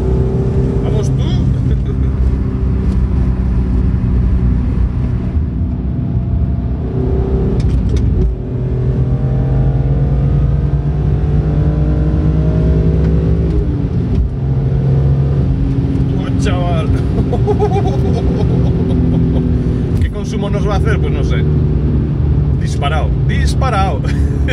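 A BMW M3 with a 343 hp 3246 cc six-cylinder engine revs and accelerates on the road, rising and falling engine tones heard from inside the car beneath frequent excited talk.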